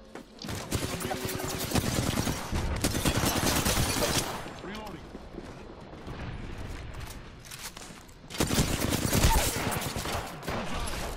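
Apex Legends gunfire, dense volleys of automatic shots and loud impacts that rise, ease off midway, then surge again, with a voice talking over part of it.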